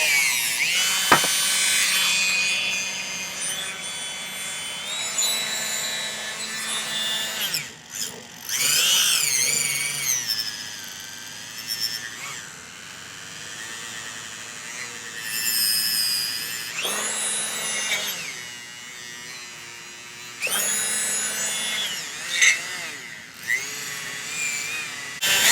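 A felt buffing wheel loaded with white diamond compound polishes a silver ring, giving a steady motor whine with a rising and falling rubbing hiss as the piece is pressed on and eased off.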